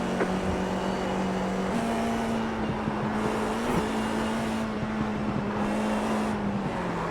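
Race car engine in the iRacing video game droning steadily at high revs, pitch shifting slightly with gear changes and corner entries, loud and continuous throughout.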